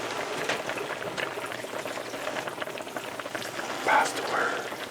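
A pot of spaghetti boils on the stove, a steady close bubbling and hiss that fills the kitchen, with a faint voice briefly heard near the end.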